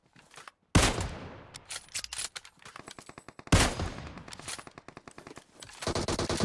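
Gunfire from a PUBG Mobile match: two loud bursts of rapid automatic shots set off by sharp cracks, with crackling fire between them and a dense stream of shots building again at the end.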